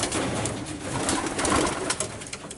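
A male racing pigeon coos up close, a soft repeated throaty rumble over a busy loft with other birds faintly around.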